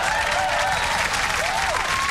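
Wild, dense applause from a crowd responding to a street interview, a continuous wash of clapping heard at a distance while a voice talks over it.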